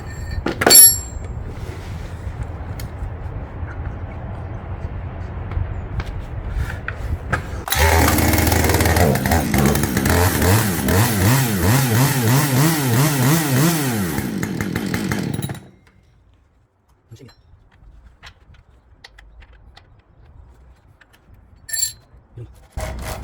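A chainsaw engine idles roughly, then revs hard for several seconds before cutting off, leaving near silence with a few faint clicks.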